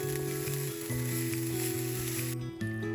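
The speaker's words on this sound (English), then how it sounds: "Sauté the onion." Onion sautéing in a pan for hot dog chili gives a steady, close sizzle that runs the whole time beneath background music.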